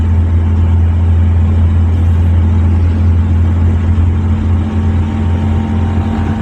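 A car engine drones steadily at high revs in a low gear while driving on a quiet road at about 40 km/h, a loud, continuous low hum with no talking.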